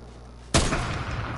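A single sharp gunshot cracks out in Fortnite, loud and sudden, followed by a lingering noisy decay and rumble of game action.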